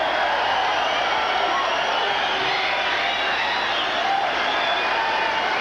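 A boxing arena crowd roars and cheers steadily after the Michael Carbajal vs Javier Varguez fight, a dense, continuous wash of voices with no single voice standing out.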